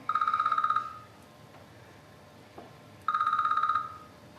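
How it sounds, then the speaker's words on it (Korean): A phone ringing for an incoming call from an unknown number, two short bursts of rapid electronic trilling separated by quiet, no talk. "모르는 번호로 걸려오는 전화"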